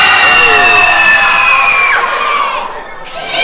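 A child in an indie pro wrestling crowd lets out a long, loud shout that holds steady and then breaks off, with crowd noise and other cheering voices around it.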